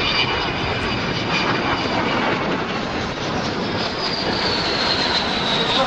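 An aircraft glides past slowly and quietly at about 25 knots over an airshow at Southend, giving a steady, broad, continuous whoosh of engine and air noise with no voices.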